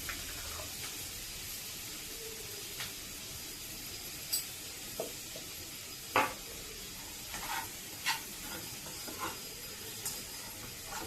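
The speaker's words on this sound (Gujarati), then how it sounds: "ત્યાં સુધી આપણે ધીમા ગેસે ગ્રેવીને ચડવા દેવાની છે." Tomato gravy for Delhi-style chole simmering on a low gas flame, a faint steady sizzle and hiss with occasional soft stirring clinks and scrapes of a spoon in the pan.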